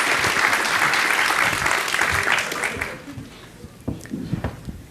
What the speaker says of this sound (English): So, everyone, big round of applause.